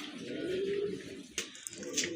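A pair of Giasulli pigeons cooing up close, soft throaty coos with a faint chirp and a light knock partway through.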